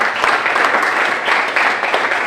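A round of applause at a road race press conference, a steady, moderately loud wash of clapping from a room of people, continuous without pause.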